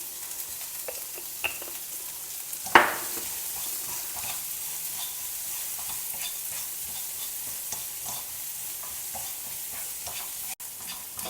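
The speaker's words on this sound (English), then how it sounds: "Saute everything together" Onions sautéing in a pan with salt while dosa fillings are prepared, giving a steady soft sizzle with occasional scraping stir strokes and one sharper clank near the middle, no voices.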